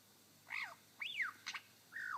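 A lyrebird imitates a golden whistler with four clear, ringing whistled phrases, each rising and falling, spaced evenly and close by in a quiet forest.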